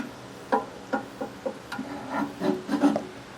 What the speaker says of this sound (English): I'm just gonna kind of go back and forth using my 2 pry bars to help hold it and lift it higher and higher